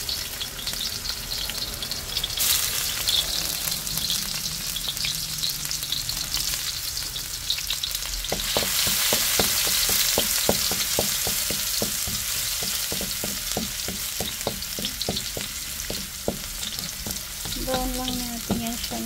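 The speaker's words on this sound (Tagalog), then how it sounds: "We're gonna saute our garlic." Garlic sautéing in a little oil in a pan, a steady loud frying sizzle throughout with repeated scraping stirs of a utensil against the pan in the second half; no talk.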